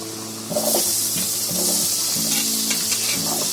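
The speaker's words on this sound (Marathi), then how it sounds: "आता त्याच्यामध्ये हे बाकीचे शिमला मिरची टाकते" Chopped capsicum lands in a pan of frying onions for spicy homemade pasta, and a steady sizzle swells at once, broken by irregular stirring scrapes close by, with no voices.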